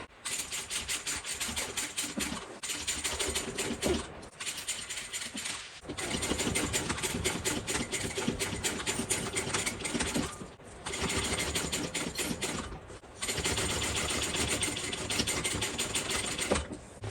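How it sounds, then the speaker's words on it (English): Sewing machine running steadily while stitching two rows along the bottom of a fabric tote bag, close and continuous in several long bursts separated by brief pauses, with no talking. "I am going to do 2 rows of stitching on the bottom here"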